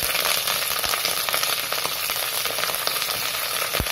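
Curry leaves and onions hit hot oil with mustard and fenugreek seeds for a fish curry, making a loud, crackling sizzle with sharp pops throughout, close and continuous.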